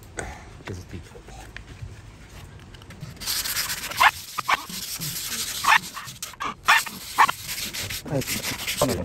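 An axe blade is scraped and sanded by hand during maintenance on a rainy camping day, giving irregular rasping strokes that grow louder and denser midway, close to the listener.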